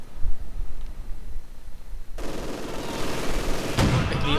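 Battle gunfire in the World War II strategy game Company of Heroes, a dense, continuous crackle of rifle and machine-gun fire that suddenly swells louder partway through, with no talking.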